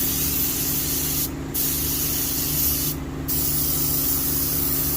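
Satin sheen gloss sprays from an aerosol onto the painted legs of a mallard decoy in two short hissing bursts over steady background hum.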